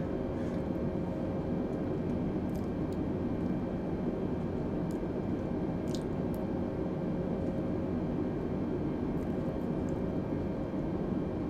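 An airliner descends toward an airport in Microsoft Flight Simulator 2020, its steady broadband engine and airflow roar holding level throughout with no talk.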